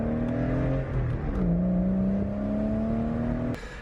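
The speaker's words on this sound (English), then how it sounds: "you can just hear every single tone of the exhaust and the engine working together" A Porsche Boxster 986 engine and exhaust pull under acceleration, a smooth rising tone that shifts once mid-run and then climbs again before easing off, close and steady with no talk.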